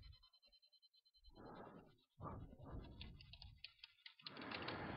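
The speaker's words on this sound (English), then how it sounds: "I go in and type in text and use the outline function" Quiet keystrokes on a computer keyboard as lettering text is typed into design software, coming in irregular close bursts with brief pauses and a run of faster ticking clicks at the start; no speech.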